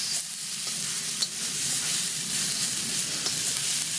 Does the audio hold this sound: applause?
no